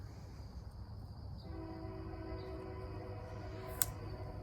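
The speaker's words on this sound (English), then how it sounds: "Now there's a train going by." A train rumbles past at a distance, steady and low, with a faint whistle-like tone and a brief sharp click near the end.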